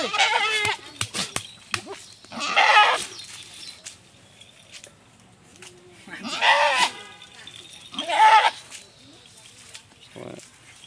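A large male goat bleats loudly up close in a few drawn-out bursts, with people talking around it between the calls.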